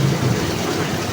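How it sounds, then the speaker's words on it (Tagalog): Heavy afternoon rain falls steadily with a low thunder rumble beneath it, a dense continuous wash with no voices. "Umulan na naman."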